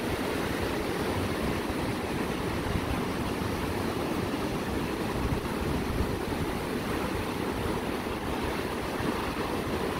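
Ocean surf at a beach break in Elyu, a set of waves rolling in and breaking; a steady, loud wash of roaring white noise with no pauses, heard alone without voices.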